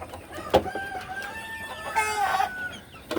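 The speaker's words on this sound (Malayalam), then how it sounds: "നല്ല പവറുള്ള കോഴികളാണ് ഇതൊക്കെ." Chickens cluck close by, mixing short sharp clucks with a few longer drawn-out calls.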